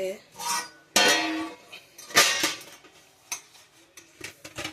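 A plate handled while turning out instant halkova sweet from a mold, giving a series of close clinks and clatters of dishware, some sharp and bright, spaced irregularly, with a voice talking between them.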